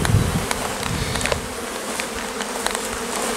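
A dense swarm of honeybees buzzes continuously close by, a steady droning hum with individual bees passing near.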